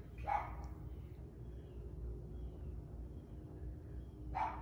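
A neighborhood dog barks outdoors at a distance, two faint single barks at the start and end separated by quiet ambient backyard noise.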